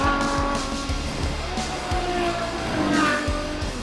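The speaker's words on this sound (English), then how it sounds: "Ferrari says that it's added a new exhaust manifold which gives you this" Ferrari GTC4 Lusso V12 engine and exhaust with a new exhaust manifold, revving hard through repeated rising pulls and shifts, loud and close, with a tire squeal near the end and no talk.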